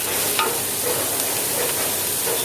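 Small onions sautéed in a pan for fish biryani, a steady soft sizzle with light stirring throughout, close and alone.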